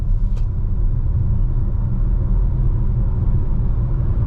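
A 2023 Subaru Solterra electric SUV accelerates with a steady, loud low rumble of road and tyre noise and only a slight electric buzz, with no voices.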